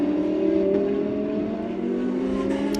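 A Lamborghini Super Trofeo race car powers through at Jerez, its engine a strong sustained drone whose pitch shifts slightly as it accelerates, loud and heard without voices.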